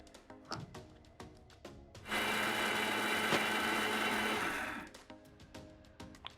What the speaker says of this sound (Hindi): इसे हम डालेंगे मिक्सर ग्राइंडर में